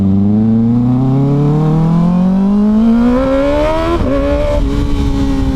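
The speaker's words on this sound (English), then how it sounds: "Oh, that exhaust sounds mean." Kawasaki Ninja ZX6R 636 middleweight motorcycle with a mean-sounding exhaust, revving up loudly and steadily with rising pitch, then briefly dipping and climbing again, close and continuous with no talk.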